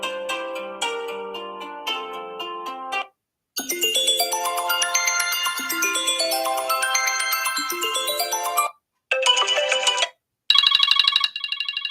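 Several phone ringtones previewed one after another: a bright repeating melodic tone, then a longer rising electronic tune, followed by short chiming bursts, loud and close with brief silences between them.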